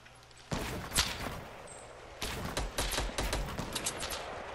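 Bursts of video game gunfire during a duos shooter match, with sharp shots and rapid volleys in irregular clusters, fairly close and loud, a sniper among the weapons.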